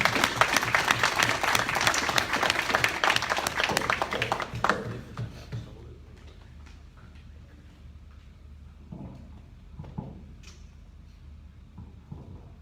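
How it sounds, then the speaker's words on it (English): Loud audience applause at a community meeting, dense clapping for about five seconds before fading into scattered taps and a quiet room. "give her a big round of applause for Miss Lydia Smith."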